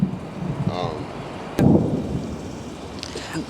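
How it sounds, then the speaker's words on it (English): A sudden low rumble of thunder in the UK breaks out partway through and rolls on briefly, with faint background noise and a bit of talk before it. "I've never heard this much thunder in the UK ever"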